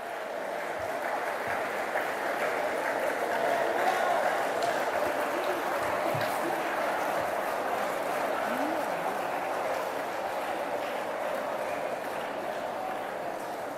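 Sustained audience applause for award winners at a college commerce department valedictory and conference, a dense, steady roar of many hands clapping at even loudness for the whole stretch.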